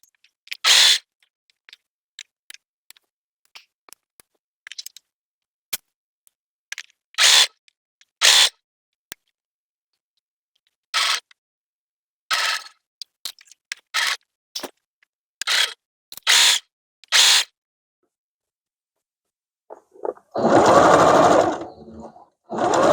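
Home sewing machine stitching a baby girl quilt through thick binding seams, heard as repeated short bursts of rapid stitching separated by pauses, with a longer, denser run of stitching near the end; no talk.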